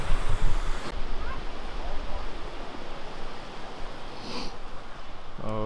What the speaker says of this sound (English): We're down here in the waterfall